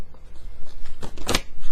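A deck of tarot cards being shuffled close by, soft riffling and flicking that builds to a brisk burst of card snaps near the end, no voice.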